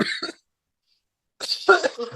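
A short cough bursts out at the start of an outdoor recording, then near-silence, followed by a person talking.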